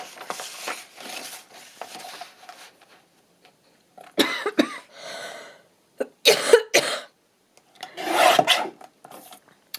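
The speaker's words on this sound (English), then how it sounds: "I'm sorry about the odd cough." A few sharp coughs break out in separate bursts during paper crafting, mixed with close rasping and rubbing of paper, with quiet gaps between them.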